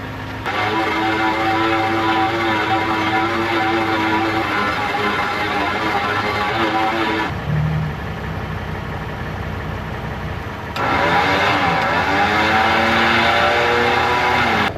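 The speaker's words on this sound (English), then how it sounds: "There we go. Winch spooled." A bumper-mounted winch on a 2.5 Gen Toyota Tundra spools its line, a steady loud mechanical whine with harmonic tones that drops lower for a few seconds midway, then resumes at full pitch.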